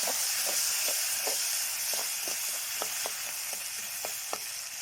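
Onions with onion leaves and fresh vegetables sizzle and hiss steadily in a pan, while a utensil scrapes and stirs in a regular rhythm of short strokes close by.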